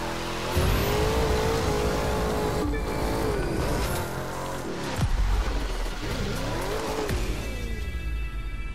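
A race car in The Crew 2 roars continuously at close range, its engine note rising and falling through gear changes and revving, with occasional tire squeal and skidding under the steady drone.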